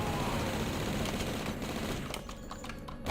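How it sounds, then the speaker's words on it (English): Rapid gunfire rattles in the game Blood as bullets are fired into zombies. The bursts are dense and crackling and stay moderately loud throughout, with no voice over them. "riddle zombies with bullets"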